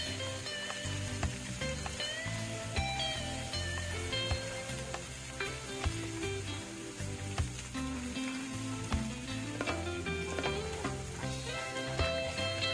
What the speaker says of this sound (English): you want to quickly just add your meat to your oil and saute